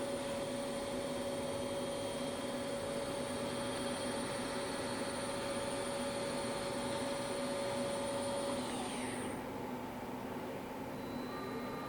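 Harrison 13 x 40 inch CNC/manual flat bed lathe spinning at 900 RPM, a steady close mechanical whine with a sustained high tone that fades out near the end as the spindle winds down.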